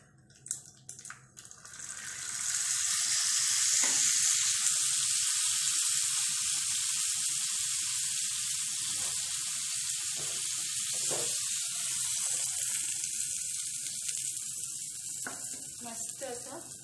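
Kadhi poured into hot mustard-seed tempering sizzles loudly, a steady broad hiss rising after a brief clatter and holding strong for many seconds, with a few faint pops and stirring sounds underneath.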